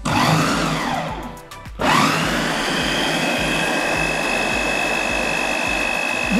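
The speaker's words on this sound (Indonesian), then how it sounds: "Oke ya, saya blender." A blender whirs loudly while blending cooked pineapple into nastar filling, running at full power, cutting out briefly for a moment, then roaring back steadily to the end.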